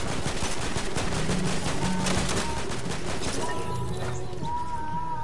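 Rapid bursts of video game gunfire fill the whole stretch, dense and continuous, with a voice talking faintly underneath.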